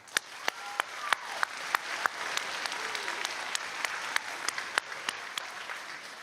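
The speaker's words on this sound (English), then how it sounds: "Y'all really deserve a well round of applause right here." Light applause for young musicians at a junior high school band concert: sparse, distinct claps from a small number of hands, fairly faint, over a soft room hum.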